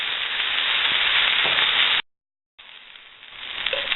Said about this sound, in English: The beans will roll around by themselves while you're stirring the beans.